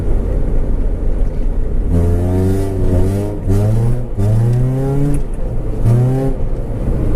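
A Honda CRX with a turbo Civic setup drives and accelerates, its engine climbing through several rising rev sweeps with brief gear-change dips, heard from inside over a steady road rumble.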